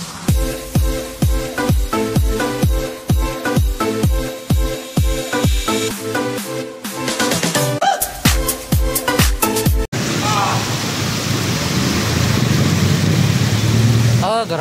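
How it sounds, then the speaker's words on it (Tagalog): A sudden heavy rain downpour sets in as a dense, steady hiss after about ten seconds of loud rhythmic thumping beats. "Grabing lakas ng ulan."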